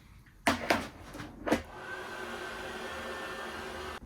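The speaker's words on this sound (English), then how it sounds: "I'm going to get the heat gun back on it." Heat gun blowing steadily on a plastic water butt during a DIY rainwater barrel repair, a continuous close whooshing hum after a few knocks and clunks at the start.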